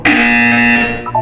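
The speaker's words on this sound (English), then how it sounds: "You will hear a buzzer." Buzzer in the video game Portal 2, a single loud harsh electronic buzz held for about a second, then tapering off into a short wavering tone, heard alone without speech.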